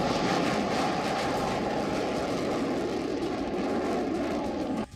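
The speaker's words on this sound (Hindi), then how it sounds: "रफाल अचानक आता है और जोरदार गर्जना के साथ पल भर में ही आंखों से ओझल हो जाता है।" Loud, continuous roar of a Rafale fighter jet flying overhead, a broad rushing engine noise holding steady before cutting off abruptly at the end.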